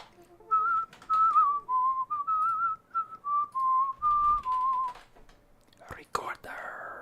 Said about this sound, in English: A recorder. Just a very fun sound.